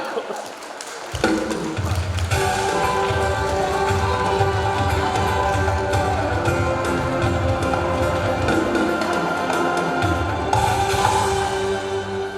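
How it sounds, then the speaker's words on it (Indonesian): An audience applauds and cheers for finalists at the Duta Bahasa Bangka Belitung 2026 pageant final. Loud sustained clapping and cheering with music playing underneath swells after a brief quieter start and holds steady. "Beri tepuk tangan yang meriah."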